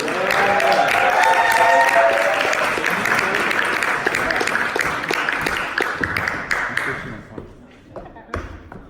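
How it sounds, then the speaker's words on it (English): A room full of people applauds a speaker named Jamie at a church talk, the clapping thick and sustained with some voices over it, then tapering off around the seventh second into a few scattered claps. "let's give a round of applause for Jamie"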